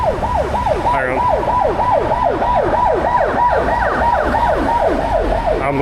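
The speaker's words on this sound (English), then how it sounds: "Ambulance going past." A loud wailing ambulance siren cycles rapidly up and down, close by and continuous, as the ambulance passes on a street in Seoul, South Korea.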